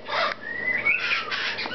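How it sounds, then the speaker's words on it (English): A pet bird calls in short raspy squawks and a rising whistled note, close and fairly loud, alone without talk. "He is a beautiful bird."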